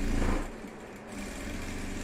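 A sewing machine runs steadily as it stitches close along the edge of fabric scrap strips for a box case. The motor whir is close and fairly quiet, with a slightly louder burst at the start.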